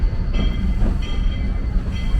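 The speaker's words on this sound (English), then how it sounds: "This train here may appear stopped, but until that all clear has been given, we are still in motion." The Georgetown Loop historic train rolls along the rails with a continuous heavy rumble and faint metallic squeal tones, close and steady.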